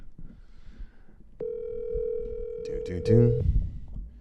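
A telephone dial tone hums steadily and loudly for about two seconds as a call to a seller is placed, then a voice cuts in over the tone near the end.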